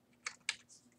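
Two crisp keystrokes tap on a computer keyboard as a value is entered into an Excel sheet, close and quiet in an otherwise hushed room.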